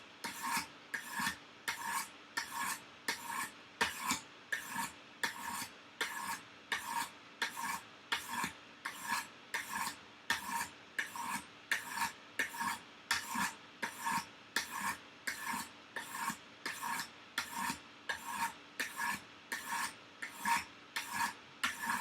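A knife blade being sharpened on its second side after raising a burr, a steady rhythmic rasp of roughly forty even strokes at close range, with no talking.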